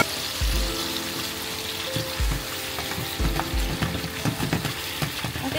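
Leftover marinade sauce poured into a hot pan with beef steak, sizzling loudly and continuously, with low thumps and scrapes of stirring scattered throughout.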